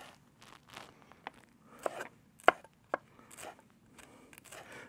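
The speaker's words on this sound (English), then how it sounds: "Just going to chop these a little bit." Small chillies chopped with a knife on a board in a home kitchen, a handful of sharp, irregular cuts close by with quiet gaps between them.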